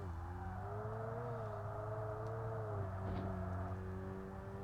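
A Subaru engine revs in the Kaido Racer driving game, a steady droning tone that rises and falls smoothly and stays prominent, with a low rumble underneath.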